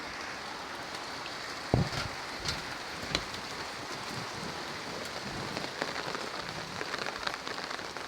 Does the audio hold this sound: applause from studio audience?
no